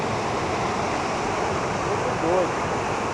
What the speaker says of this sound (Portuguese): essa é a cachoeira do